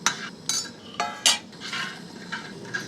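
A spoon stirs turmeric curry with yogurt in a pot, making repeated light metallic scrapes and clinks against the pot in an irregular rhythm with no talking.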